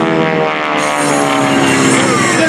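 A propeller aerobatic airplane passes at about 150 to 160 miles per hour during the 2021 Leesburg Airshow, its loud, steady engine and prop drone sweeping past close by with a slight pitch shift.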